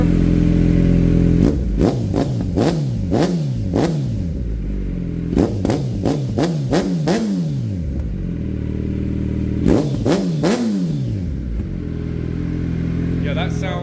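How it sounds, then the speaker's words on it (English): A warmed-up 2024 Kawasaki Z900 with a full M4 aftermarket exhaust idles with a throaty rumble, then its engine is revved sharply in several quick bursts, each climbing and falling, loud and close. "I'll give it a couple of cracks of throttle now that it's warm"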